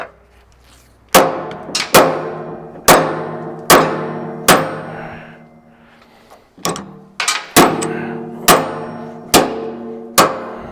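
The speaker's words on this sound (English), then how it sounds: "I'm hitting more on the weld yoke" A hammer strikes the weld yoke of a 1983 Kenworth cabover truck while a damper is changed: about a dozen sharp, ringing metallic clangs land in a steady rhythm with a short pause midway, loud and close, with no talk.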